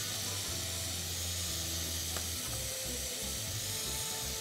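Onion sizzles steadily in a pan with salt, pepper and spices, a continuous close frying hiss with a few low thumps of stirring and no voices.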